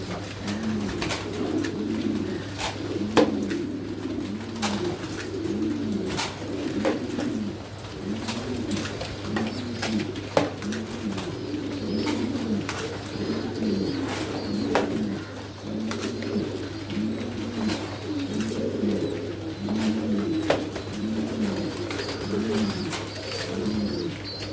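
Pigeons coo steadily in a rhythmic, repeating pattern while they eat grain, close and clear, with sharp pecks and clicks scattered throughout and a constant low hum underneath.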